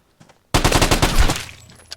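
A rapid burst of automatic gunfire in the Vigor video game cracks out loud and close after a brief quiet, then trails off into echoing decay with one last faint shot.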